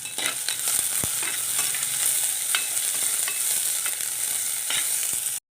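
Green chillies and chopped ingredients sautéing in a pan for sardine curry, a continuous bright sizzle with occasional scrape and tap of a spoon stirring, close and steady with no talking.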